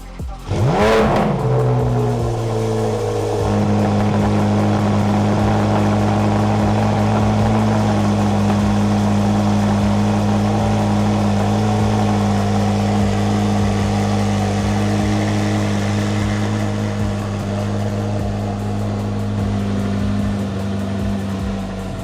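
A 2024 Chevrolet Corvette C8 Z06 starts with a sharp rising rev, then settles into a loud, steady, throaty idle as it pulls out of a garage, droning evenly throughout.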